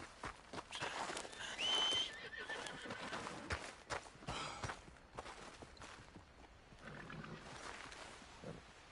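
A horse in a video game whinnies early with a high, wavering cry, followed by hoofbeats and rustling movement, and a softer snort or neigh later.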